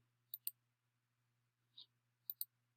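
A computer mouse clicks on a link: two quick clicks, a softer single click, then another fast double click, all close and crisp over a faint low hum.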